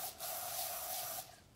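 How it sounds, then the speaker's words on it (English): Butter spray hisses from a can onto the bottom of a pan, one steady spray of just over a second, close and fairly quiet, with no voices. "I do also do a little spray butter"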